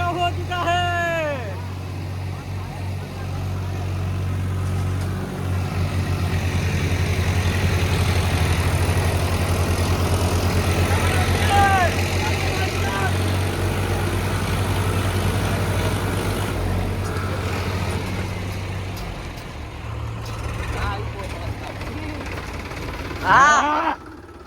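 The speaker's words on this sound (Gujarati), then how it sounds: "હા ગઈ મિત્રો અમારે ટ્રેક્ટર નથી જતું." A tractor engine runs with a steady low, rumbling idle throughout, near and fairly loud, while people talk over it.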